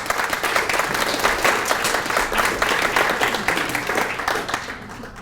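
An audience at a graduation reception applauds the graduates with steady, dense clapping that fills the room throughout, easing slightly at the end.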